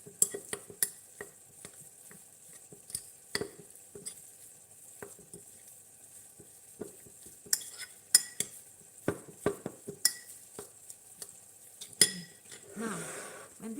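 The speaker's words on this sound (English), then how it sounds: "Alright, so just mix everything together." A spoon stirs a mixture with garlic and ginger in a pan, giving repeated scraping clinks and taps against metal over a soft sizzle, close and irregular, with no talk.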